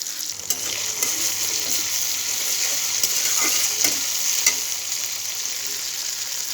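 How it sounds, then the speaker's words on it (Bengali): Chopped tomatoes frying in oil for a fish-roe kofta curry make a constant close sizzle, broken by a few light spatula taps and stirring scrapes, with no talking. "এটাকে আমি তেলের সাথে একটু ভেজে নেব।"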